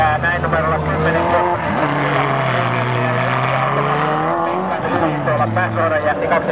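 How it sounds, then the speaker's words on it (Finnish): Race cars in a motorsport race at Nurmes in 2006 roar past with sustained, loud engine drone and shifting pitch, heard alongside a commentator's continuous talk. "sieltä lähtee nyt erittäin hienosti numero 33 Arttu Tikkala"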